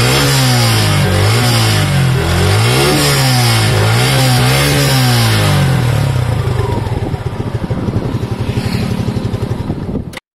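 A Suzuki Gixxer SF motorcycle with a dual exhaust revs close up, its engine note rising and falling in repeated blips before settling into a rough, throbbing idle.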